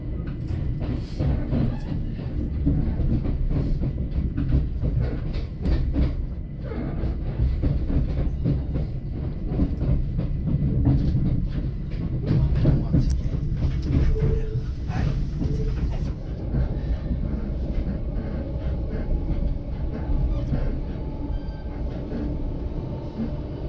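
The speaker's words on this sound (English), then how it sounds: "back on the train on the way home" Continuous rumbling of a train running along the rails in London, with steady rattling and occasional clicks, loud and close throughout.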